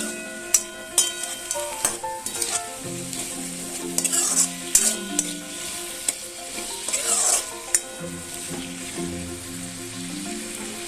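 Fig curry with turmeric being stirred in a frying pan: repeated scraping clinks of a spoon over a steady sizzle, close and moderately loud, with a faint tonal background and no talk.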